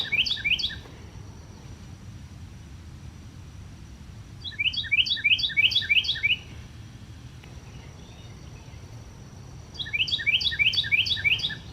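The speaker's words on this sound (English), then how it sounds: "There's a Carolina wren up there." A Carolina wren sings three bright, rapid chirping phrases, each a quick run of repeated notes, separated by pauses over a low outdoor rumble in a park on a May morning.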